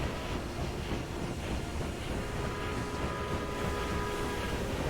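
A locomotive rolls along steadily in the railway strategy game Railway Empire, a dense, even rumble with faint tonal whine, constant and alone throughout.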